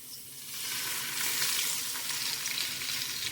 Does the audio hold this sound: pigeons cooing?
no